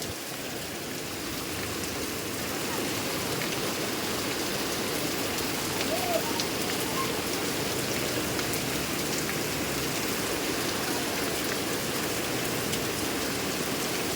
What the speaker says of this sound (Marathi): काल जरा बरा होता पाऊस आज परत चालू झाला आहे